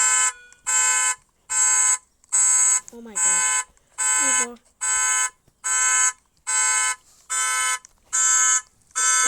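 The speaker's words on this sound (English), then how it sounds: "I will be showing the alarm sounds" A car's panic alarm, the second car being a 2023 model in a series, blares in loud regular bursts of a high electronic tone, about a dozen evenly spaced pulses, with a few short exclamations spoken between them.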